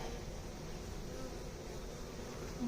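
Honey bees hum faintly around an opened hive, a soft continuous buzzing low in level with a quiet outdoor background and no talking.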